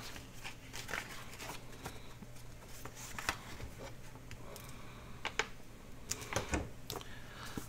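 Sheets of 12x12 paper are handled and folded into an accordion journal pocket, giving soft crinkles, light taps and rustling creases in quick irregular bursts, close and fairly quiet.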